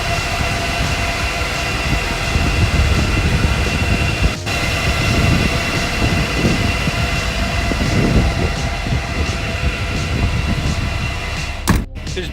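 Loud, steady machine roar of a Bitcoin mining rig packed into a room filled to capacity, a constant broadband whir of many fans with a couple of brief clunks near the end and no talking.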